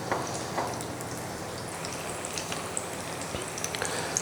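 Aloo tikki sizzling steadily in a pan over a medium-low flame, a soft continuous crackle of frying oil with faint scattered pops, no voices.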